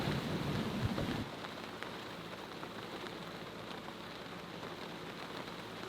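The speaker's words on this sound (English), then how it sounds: "The rain's kind of nice, it's washing down the boat from all the salt spray." Steady rain patters on a Beneteau 423 sailboat during an offshore delivery, a dense, even hiss that stays constant after a brief louder rumble at the start.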